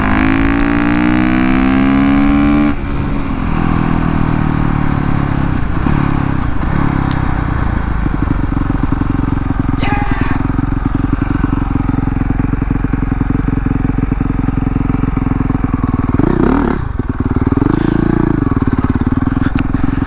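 A Honda CRF450RX converted to a supermoto revs loudly and close up, rising and falling in sharp throttle blips over a harsh, rough idle, then surging again near the end.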